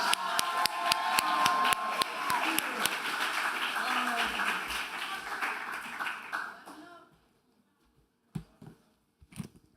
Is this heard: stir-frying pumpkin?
no